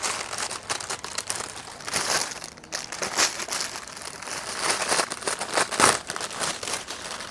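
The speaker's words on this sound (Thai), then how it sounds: "เป็นของที่หา ง่ายๆนะ ถุงพลาสติก" A plastic bag crinkles and crumples as it is handled up close at a survival skills session by the sea, irregular crackling bursts running steadily throughout with no speech.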